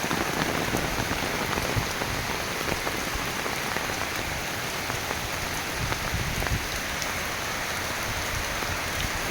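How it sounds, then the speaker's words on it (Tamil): Steady rain pattering on surfaces, a dense continuous hiss with scattered sharper drops, close by and with no voices. "அருமையான மழை பெய்யுது"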